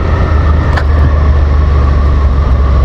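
Suzuki SV650 motorcycle engine accelerating smoothly during a riding lesson, a loud steady low drone with rushing road and wind noise, no talking.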